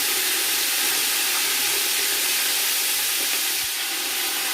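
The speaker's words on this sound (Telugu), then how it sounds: "మళ్ళీ పోపు పెట్టుకుందామండి" Curry leaves and vegetables such as carrot and beans sizzle in hot oil during tempering, a continuous bright hiss and crackle that stays loud and even throughout, with no talk.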